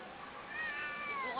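A person imitates a cat with a drawn-out meow that rises and falls, faint and muffled against a low background murmur.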